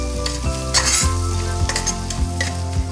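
A spoon stirs a small batch of pizza sauce made from pepper powder, vinegar and salt, with rhythmic scraping strokes roughly every half second over a steady humming tone in the background.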